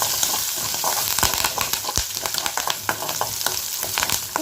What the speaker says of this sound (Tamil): கருவேப்பிலையும் சேர்த்து நல்லா வதக்கி விட்டுக்கலாம்